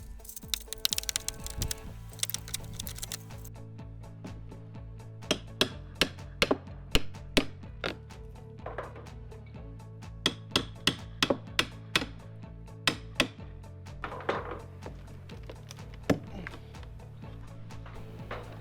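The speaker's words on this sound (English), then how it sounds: "using that pry bar to go ahead and pry off some of the old dry rot" A pry bar strikes and prises off old dry-rotted 1x3 wood fascia board, producing irregular sharp knocks, cracks and splintering clicks scattered over a steady low hum, close and fairly loud, with no talk.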